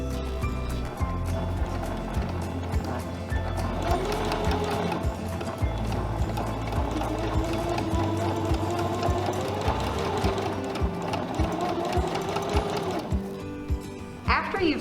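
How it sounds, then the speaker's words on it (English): A sewing machine runs steadily, stitching the straight border edge of a teen's potholder, its mechanical whir continuous and fairly close with faint talk or background sound beneath before it winds down near the end. "we're going to go ahead and sew a line down and stop right before we get to the corner."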